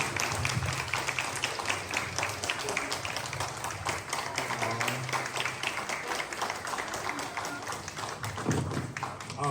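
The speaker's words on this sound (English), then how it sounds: "if we could just get one more round of applause for Mercado" An audience at the Formerly Incarcerated Speaker Series claps for speaker Sol Mercado, a dense steady round of applause lasting throughout, with a few faint voices underneath.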